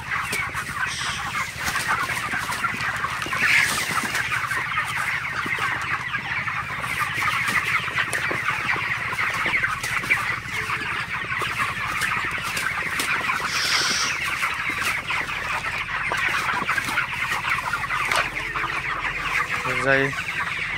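A poultry shed of broiler chickens in hot midday weather fills with dense, continuous clucking and murmuring from many birds, steady and fairly close throughout, with occasional louder calls standing out from the flock.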